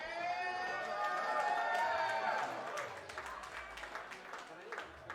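An audience applauds a band at a memorial concert. A dense wash of clapping and cheering rises at first, then thins to scattered claps while voices chatter underneath.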